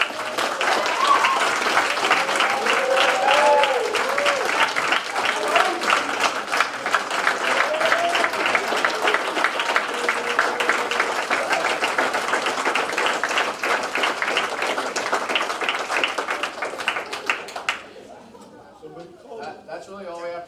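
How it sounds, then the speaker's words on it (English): Steady applause at a student government senate meeting, dense clapping with some cheering voices and chatter, lasting about eighteen seconds before cutting off to quieter room sound and talk. "I just want to give one more round of applause"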